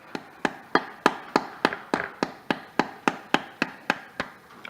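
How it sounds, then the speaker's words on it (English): A hammer taps repeatedly on a Porsche 987 Boxster transmission pump seal, driving it into place: about fifteen sharp, evenly spaced metallic knocks, close and fairly loud, with no talking. "obviously I can use a hammer,"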